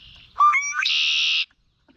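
A red-winged blackbird gives a single clear, close call, with a few quick sliding notes rising into a buzzy, sustained trill that stops abruptly, then silence.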